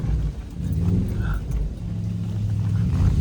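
An old truck engine runs with a deep, rumbling low drone that rises slightly toward the end, while people talk nearby over the motor.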